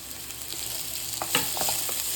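Beans and onions sautéing in a pan for rava vegetable idli, a steady soft sizzle with a few scraping stirs near the end, close and moderately quiet, no voices.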